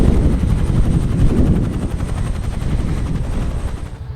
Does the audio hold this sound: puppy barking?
no